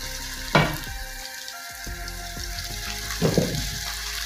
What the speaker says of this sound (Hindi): प्याज सॉफ्ट हो गया है, अब इसमें मैं डालती हूँ अदरक लहसुन का पेस्ट